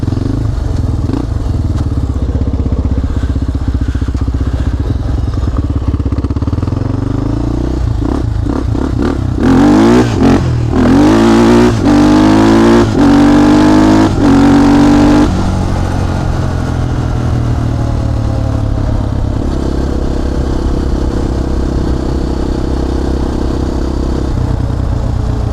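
A Honda 400ex ATV riding on pavement, its single-cylinder engine loud and close, idling and then revving hard in rising bursts with rattling clatter from a shaking frame, then settling back to a steady run.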